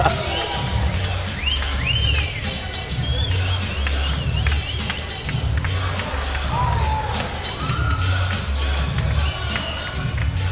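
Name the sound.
whistles from the crowd at a basketball game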